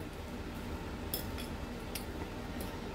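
Cheese, salt and black pepper being mixed together in a bowl, soft scraping and a few light clinks of utensil against dish, faint and close, with no talking.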